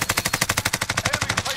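Rapid, loud automatic gunfire in a Call of Duty match sounds as an evenly spaced burst of about seventeen shots over under two seconds, close and alone.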